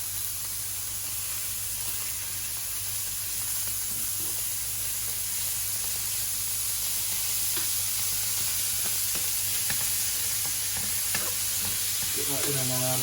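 A steak sears in a generous spoonful of melted butter in a frying pan. It gives a steady, close, hissing sizzle with occasional crackles and no talking.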